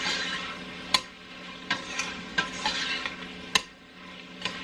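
Garlic cooking in a pot of browned beef for cheeseburger casserole sizzles steadily while a utensil clicks and taps against the pot several times at irregular intervals.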